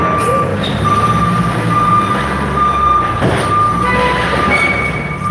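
Forklifts work loudly around an 18-wheeler being loaded, with steady high reversing beeps sounding over a dense rumble of engines and clattering machinery nearby.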